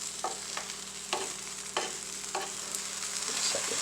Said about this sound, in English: You just want to give it a nice mix.